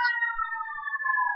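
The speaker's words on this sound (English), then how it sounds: "there's a bunch of fire trucks going by and ambulances" Sirens from passing fire trucks and ambulances wail as a steady, fairly loud, drawn-out tone, heard alone without speech.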